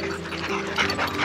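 Several puppies at a doggy daycare pant, whimper and yip together in a close, busy chorus of small dog noises.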